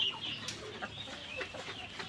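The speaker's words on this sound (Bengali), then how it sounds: "আমার 3 নাম্বার শেডে কিছু লেয়ার মুরগি আছে।" Layer hens in a poultry shed give soft, scattered clucks and short calls at a moderate distance over a low, quiet shed background.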